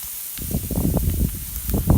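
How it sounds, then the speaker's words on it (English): Chopped onions and celery hitting a hot roux for a crawfish stew, giving a crackling sizzle and hiss in uneven bursts, close and fairly loud with no voices over it. "we got these onions and the celery going in here in this roux"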